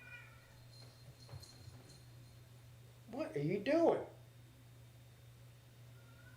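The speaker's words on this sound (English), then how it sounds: "My cat's going crazy over here." A female house cat meows in two loud, drawn-out cries near the middle, close by, while a person talks and a football game broadcast murmurs underneath with a steady low hum.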